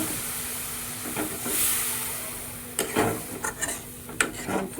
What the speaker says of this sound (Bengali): আর এখন দিয়ে দেবো আমি জল।